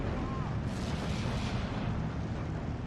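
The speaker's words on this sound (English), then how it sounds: "Artillery coming in." An artillery barrage lands in the Steel Division 2 wartime strategy game, a dense, continuous rumble of blasts and booms filling the scene, loud and sustained, with a voice partly over it.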